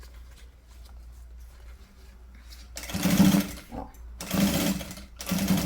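A sewing machine stitches a seam closing the bottom of a cube-shaped fabric pouch, running in three close, loud bursts of rapid whirring after a quieter stretch, with a brief vocal sound at the start.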